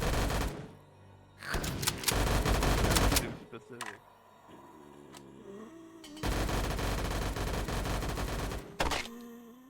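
Rapid bursts of gunfire in the VRChat video game, loud and close, with a lull of scattered clicks and shots between two dense volleys.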